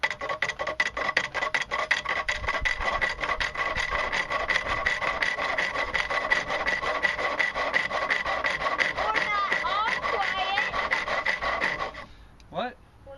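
Wood spinning on a lathe in a workshop, a loud continuous rasping, scraping whir of the turning cut that holds steady for about twelve seconds before stopping abruptly.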